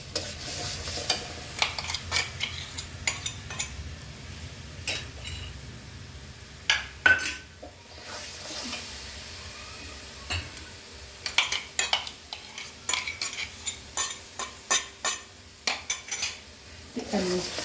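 A spoon scrapes and clinks steadily in a pan as cashew gravy with ghee and butter is roasted for restaurant-style paneer butter masala, with a soft sizzle underneath and close, irregular stirring strokes.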